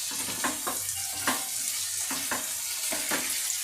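Chopped tomato frying in a pan, stirred gently, giving a continuous soft sizzle broken by several light rhythmic scraping strokes.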